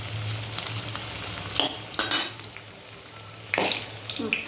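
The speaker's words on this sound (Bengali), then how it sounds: "আলু ভাজা হয়ে গেছে।" Potatoes sizzle steadily in a hot pan, loud and close, with a few sharp scraping stirs of a spatula against the metal and no talking.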